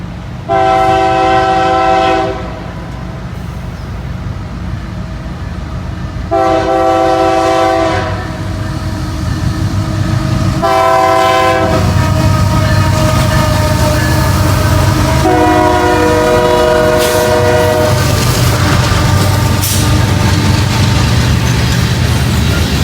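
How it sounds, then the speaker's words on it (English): A coal train sounds its horn in several long blasts while the heavy rumble of the passing cars continues loud and close throughout, in Princeton, Indiana. "Looks like we might have a coal train here."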